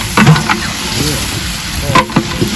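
Goat mutton being stirred in a pot over a village wood-fired stove, with a close scraping and stirring rhythm over a steady sizzle, a few louder clanks and pot noises breaking through.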